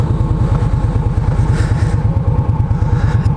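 An Indian Scout motorcycle engine idles close by with a steady, even low thumping rhythm, loud and smooth, with no one talking.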